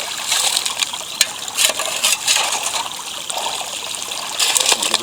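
Gravel is sieved in water while prospecting for gems in Australia, giving a close, trickling and splashing wash broken by sharp clicks and rattles of stones.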